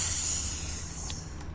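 A voice hisses a drawn-out whispered "Sss" imitating a mysterious sound. It is steady and fairly loud, then fades slightly over a second and a half, with no other talk.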